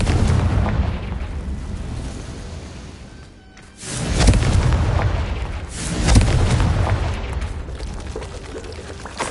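Two deep, booming blasts from the Confringo spell in Hogwarts Legacy land a couple of seconds apart, each swelling loudly before rumbling away over a constant background din.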